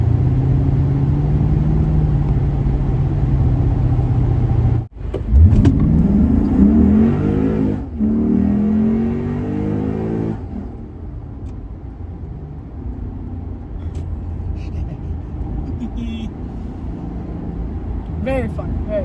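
A modified Lexus IS F drives along, its engine revving hard in a rising growl as it accelerates through the gears, loud and close inside the car, before settling into a quieter cruise.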